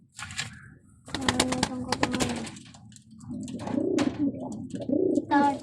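Pigeons coo nearby in a series of soft, throaty, rolling calls, mixed with sharp clattering taps and brief voices talking over parts of it.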